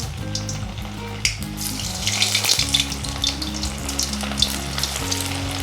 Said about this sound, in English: Now I have to deep fry this in the hot oil.